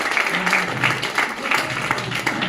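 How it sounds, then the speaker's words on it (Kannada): Audience applause at a book launch for the Kannada translation of Answering the Unanswered, a steady wash of clapping from a crowd, moderately loud, with a voice faintly audible underneath. "ಜೋರಾದ ಚಪ್ಪಾಳೆ ಬರಲಿ."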